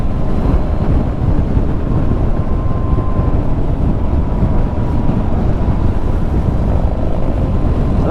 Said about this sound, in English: Drove to Deadwood just so I could test ride this Livewire